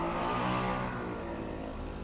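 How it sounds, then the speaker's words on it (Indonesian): A motorbike engine passes by outside an Indonesian recording room, a continuous loud rumbling drone that fades slightly over two seconds with no talk. "Aduh tuh motor lagi"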